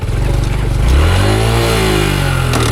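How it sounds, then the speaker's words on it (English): Stock Honda Trail125 motorcycle engine, close and loud, idling roughly then revving up sharply and holding a high, rising drone as the clutch is prepared for a drop. "Trying to learn how to rev drop this thing"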